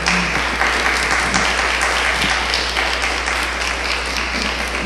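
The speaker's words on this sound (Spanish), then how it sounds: "Le dan un aplauso al Señor." A church congregation breaks into sustained applause, a dense, loud wash of clapping over a steady low hum, with a faint voice briefly audible beneath it.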